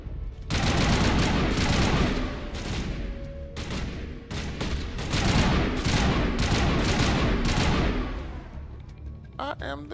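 Heavy gunfire in the Mass Effect video game, long bursts of rapid automatic shots with brief pauses between volleys, loud and close, with a voice talking over it.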